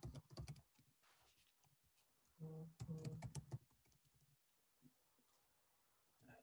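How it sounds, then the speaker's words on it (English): Quick, irregular keyboard typing clatters up close in short bursts, with pauses between flurries of clicking keys. "Just typing this out."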